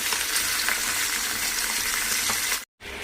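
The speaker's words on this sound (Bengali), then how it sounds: "মাছটা ভাজতে দিয়ে দিয়েছি" Fish frying in a pan gives a loud, steady, hissing sizzle with faint crackles throughout, then cuts out briefly just before the end.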